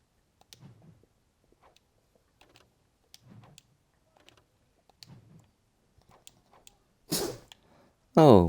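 Two quick sneezes, likely from a pet, close and loud after a stretch of soft ticking and clicking, with quiet background talk.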